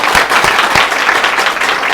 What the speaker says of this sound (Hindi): आप लोग एक बार ताली बजा दीजिए इन लोगों के लिए